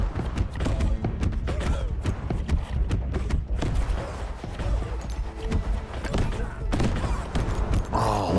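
Cannons booming from the side of a ship in a video game, dense repeated blasts and thuds in a loud, busy battle mix with game noise throughout.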